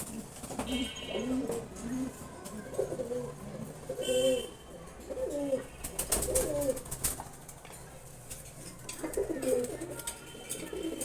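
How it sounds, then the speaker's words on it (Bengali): A pair of silver pigeons gives nearby rolling coos in a series of short bursts with pauses, along with a few faint rustles in a quiet room. "দারুণ একটা কবুতর।"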